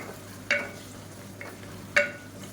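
Fresh mint and coriander leaves are sautéed in a pan, with two brief bursts of stirring and scraping over a low, steady background and no talk.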